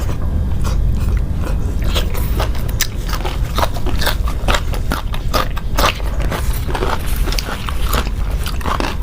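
Close, loud crunchy biting and wet chewing of large boiled chicken dipped in chili dipping sauce, steady repeated chomps continuing throughout with no pauses.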